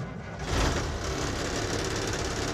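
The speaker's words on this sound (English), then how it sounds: "Turn on the key to start my engine." A truck hauling a trailer cranks over and settles into a steady, rumbling idle, loud and close from inside the cab during a pre-trip air brake test.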